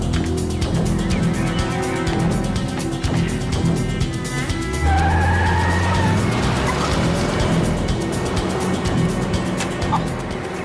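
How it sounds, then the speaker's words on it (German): A grey passenger car accelerates away fast, its engine rising in pitch over a busy, noisy background with a brief squeal, fairly close and loud for several seconds. "Was war denn das für ein Wagen?"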